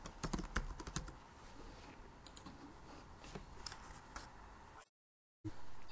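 Typing on a computer keyboard, a fast irregular run of close clicking keystrokes over a quiet background, cut by a brief silent gap before the tapping resumes.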